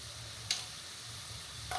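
Onions with turmeric and salt sauté in a pan, giving a soft, even sizzle with a couple of brief stir clicks, heard close and faint with no voices.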